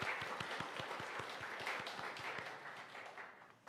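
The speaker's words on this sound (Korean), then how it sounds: "박수하시죠." A church congregation applauds together after a call to give thanks, with broad steady clapping and a few sharper individual claps standing out, fading slightly toward the end.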